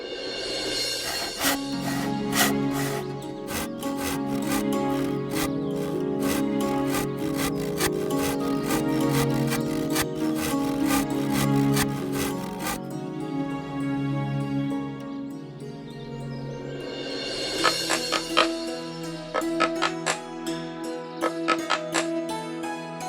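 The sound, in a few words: hand saw cutting wood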